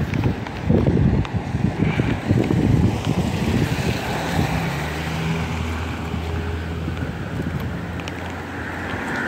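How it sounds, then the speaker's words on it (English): Strong wind blows outdoors beside a house, roaring and buffeting loudly in heavy, low gusts throughout, with a faint steady whine running underneath. "Whoa. That's windy. That's some wind, alright?"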